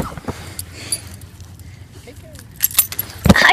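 Keys jangle briefly as they are handed over outdoors, a short bright metallic rattle near the end amid ambient noise and nearby voices.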